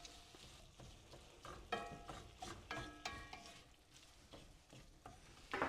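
Ground beef cooking in a pan for keto pizza, a steady close sizzle with stirring scrapes and clinks of a utensil against the pan, no voices.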